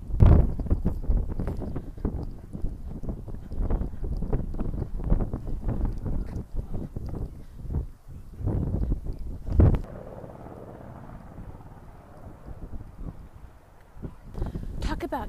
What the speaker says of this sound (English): This wind is insane, yo.